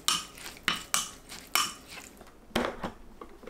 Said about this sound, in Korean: 밥이 완성되면 골고루 저어주세요